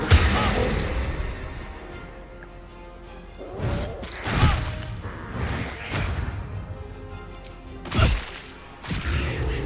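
Force explosion spell cast in the video game Baldur's Gate 3, heavy booming crashes and thuds with whooshing swells, several loud impacts spread across the moment amid game effects.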